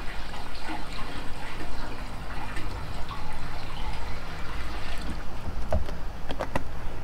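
Urine is poured from a bottle into a nearly full collection tank at an ecovillage, a steady close gurgling and splashing stream that runs continuously for several seconds before a few sharp clunks.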